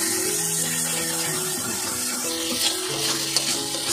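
Mutton and spices stir-frying in a pan for Kolkata Golbari-style kosha mangsho, a steady close sizzle with scraping stirs and no talk.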